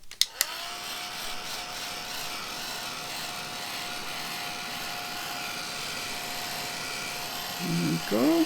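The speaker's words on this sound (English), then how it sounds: "let's just give that a quick waft over with the heat gun" A heat gun blows hot air to dry oxide paint on a shabby chic journal, a steady loud whooshing drone with a faint whine running throughout, briefly broken by a voice near the end.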